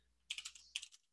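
Quick bursts of typing on a computer keyboard while entering a caption in a word processor: two short clusters of crisp, close key clicks separated by a brief pause, with no talking.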